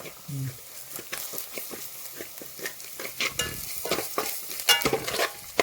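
Turmeric powder frying in oil for a Kerala-style mackerel chili curry, with a steady sizzle punctuated by repeated scrapes and clinks of stirring, up close; a voice speaks briefly at the start.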